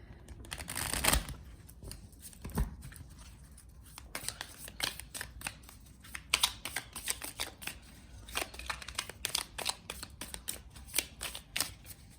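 Tarot cards are shuffled by hand in a quiet room, producing repeated soft riffling flicks and papery slaps in a steady, uneven rhythm.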